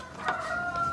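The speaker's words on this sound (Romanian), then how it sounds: "am vecini care au cocoși și găini și restul animalelor" A neighbours' rooster crows once in a Bucharest backyard, a short, fairly clear cock-a-doodle-doo heard from a slight distance with no talk over it.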